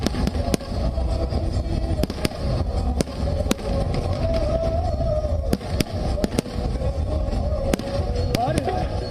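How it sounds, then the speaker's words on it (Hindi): Grand fireworks over the Saryu river bank in Ayodhya during the Deepotsav Diwali festival, a steady roar of crackling and booming with repeated sharp bursts, loud and continuous while a voice speaks over it. "सरयू नदी के तट पर भव्य आतिशबाजी की गई है।"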